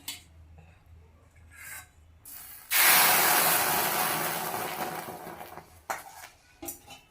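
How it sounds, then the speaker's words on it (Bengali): Chitoi pitha, rice-flour cakes, sizzle in a wok: a sudden loud, steady hiss swells after a few light clinks, holds for several seconds, then fades back to quiet kitchen clatter. "এইভাবে একের পর এক চিতই পিঠা কড়াইতে ভেজে নিচ্ছি"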